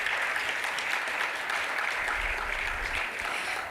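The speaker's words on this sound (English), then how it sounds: "Oh, clap for us." Audience applause at an innovation and industry summit, a sustained wash of many hands clapping at a steady level, with a low rumble creeping in partway through and no speech on top.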